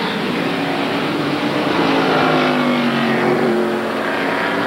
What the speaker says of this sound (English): here's Jimmy Spencer spinning around in the car